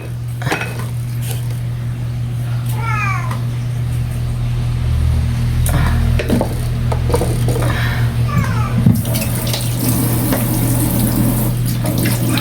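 A tap runs weakly into a sink, giving a steady trickling wash under a low hum. Dishes clink now and then and a short hiss flares near the end.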